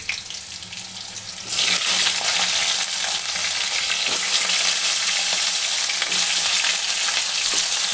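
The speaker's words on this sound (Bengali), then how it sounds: "একটু জিরে ফোড়ন দিয়ে দিলাম, দিয়ে আলুগুলো আমি ভালো করে ভেজে নিচ্ছি একটু।" Potatoes frying in oil with cumin seeds, a quieter start giving way to a sudden loud, bright sizzle that hisses steadily and close up, with a few stirring knocks.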